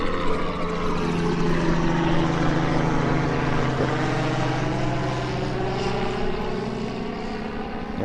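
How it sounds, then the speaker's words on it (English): Steady, loud droning of an aircraft engine with a rotor-like pulsing hum, holding constant throughout with no voices. "and helicopter flight over it"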